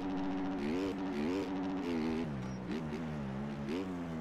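Motocross bike engine in the MX Bikes racing game, revving steadily with pitch rising and dipping as the throttle works, a continuous loud drone with no pauses.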